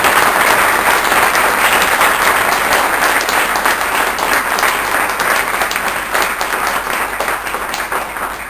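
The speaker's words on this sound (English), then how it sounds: "need and deserve a big round of applause before we end." Conference audience at an interfaith event gives a big round of applause, a dense, sustained roar of clapping that stays loud and slowly eases toward the end.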